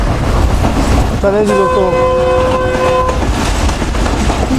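The Pak Business Express on its Karachi to Lahore run sounds a long, steady horn blast over the constant rumble of the moving train as it pulls ahead to overtake the Millat Express. Someone speaks briefly.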